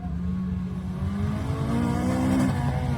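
A race car with a Honda-like engine note revs on a grip shootout track, its buzzing tone climbing steadily as it accelerates, then briefly easing off near the end.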